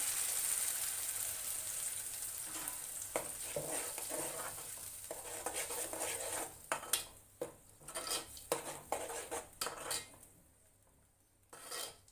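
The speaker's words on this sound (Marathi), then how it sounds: "चटणी चांगली ना तेलामध्ये परतून घ्यायची" Ground Malvani-style chutney sautés in oil for a mandeli fish curry: a soft frying hiss under repeated scraping stirs of a spatula against the pan, growing more distinct and rhythmic toward the end, with no speech.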